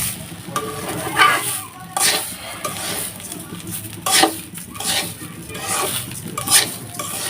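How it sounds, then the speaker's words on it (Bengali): Rice for chicken biryani is stirred and fried in a pan, with a soft steady sizzle under repeated scraping strokes of a utensil against the metal every second or so. "চাউলটি আমি এভাবে ভাজতে থাকবো।"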